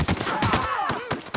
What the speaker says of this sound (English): Okay, I'll shoot some stray bullets.